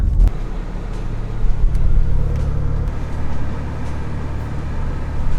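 Steady road rumble and tire noise from inside a car merging onto a Los Angeles highway, a continuous low drone with passing traffic.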